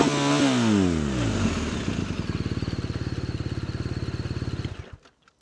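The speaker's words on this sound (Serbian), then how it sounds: "Strašno lep zvuk ovog bokser agregata." A BMW R1250R boxer twin breathing through an Akrapovič exhaust revs up loudly close by, then settles into a steady, rapid pulsing idle before cutting off near the end.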